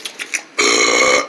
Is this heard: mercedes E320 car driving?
no